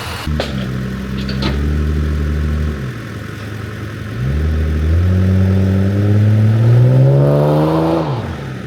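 A supercharged car engine runs steadily and then revs up twice, its pitch climbing and falling back between the rises. It is loud and close, with no talk over it.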